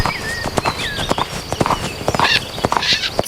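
A toy horse plays its recorded sound, a quick run of clip-clopping hoof beats mixed with a short neigh, loud and close for a few seconds.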